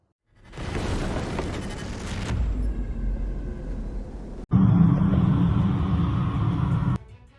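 A heavy, continuous rumble from explosions at the Rosneft oil depot in Bryansk, loud and roaring, broken by one sharp blast midway that sets off a louder, denser roar before it cuts off.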